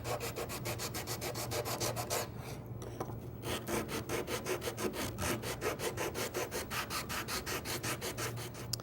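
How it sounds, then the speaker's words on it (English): Rhythmic back-and-forth rasping of a sanding block on wood, steady rapid strokes close up, with a brief pause partway through. "Sanding block, makes quick work of that."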